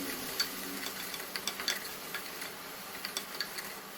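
A spoon stirs garlic-ginger paste, Kashmiri chili, turmeric, salt and asafoetida into a gravy for a cluster bean curry. Soft sizzling runs underneath, with light scattered clicks of the spoon against the pan, quiet and close.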